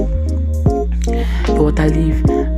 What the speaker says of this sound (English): So after that, you go ahead and add your water leaf.